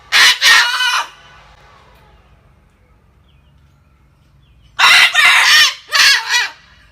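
Loud, raspy screeches come from a pet parrot outside, close up, in two separate bursts of several rapid calls with a pause of a few seconds between them.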